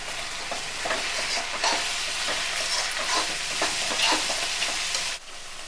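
Ginger garlic paste frying in a pan as a spoon stirs it through, a steady close sizzle with scraping strokes over about five seconds, easing off at the end.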